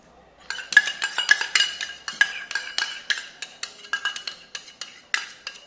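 A spoon scrapes and clinks rhythmically against a bowl while mixing a dressing of salt, green chilli and coconut oil for a chickpea salad, a steady run of close, bright taps with no talking.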